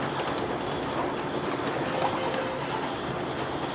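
Racing pigeons coo softly inside a loft amid a steady, busy background hum, with faint bird calls scattered throughout.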